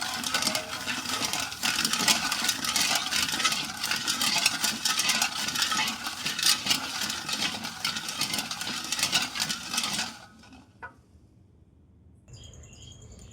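Sugar being stirred into hot water in a bowl while making semolina malpua, a steady close scraping and swirling that runs continuously for about ten seconds, then drops to near quiet with a faint high tone.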